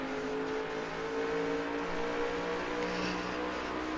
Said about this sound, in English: You can hear the throttle.